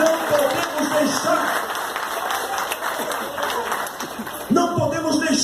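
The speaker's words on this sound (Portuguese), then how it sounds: "aplauda o Senhor Jesus" Church congregation breaking into applause during a Brazilian evangelical prayer service, sustained crowd clapping with voices mixed in, swelling louder near the end.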